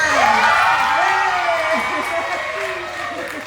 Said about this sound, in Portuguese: Palmas das crianças!